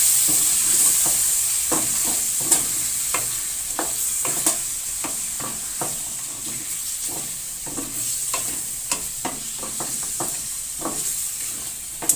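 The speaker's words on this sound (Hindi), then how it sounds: "अब इसको मैं भून लूँगी दही के साथ।" Chicken sizzles in a pan with yogurt while a spoon stirs and scrapes repeatedly, sharp clanks over a continuous frying hiss, close and fairly loud, with no talking.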